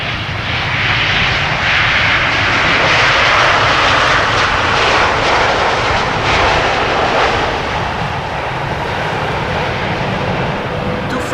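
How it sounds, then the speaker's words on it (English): A TUI Boeing 787-8 Dreamliner lands at Amsterdam Schiphol Airport, its loud engine roar steady and broad across the whole stretch, swelling slightly then easing, with talk faintly underneath. "now landing is TUI Flight 397 arriving from Willemstad, Curaçao, a 787-8 Dreamliner"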